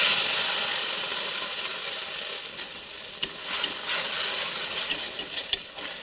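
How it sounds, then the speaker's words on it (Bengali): A ground paste of cumin, nigella seeds, mustard and green chili sizzles steadily in hot oil, a close, bright frying hiss broken by a few sharp pops and crackles. "জিরে, কালো জিরে, সর্ষে, কাঁচা লঙ্কা একসঙ্গে বেটে নিয়েছি, তেলের মধ্যে দিয়ে দেবো।"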